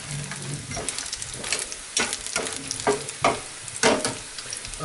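Green plantains frying in hot oil Jamaican style give a steady close sizzle, with stirring scrapes and several louder crackling bursts as more pieces go into the pan.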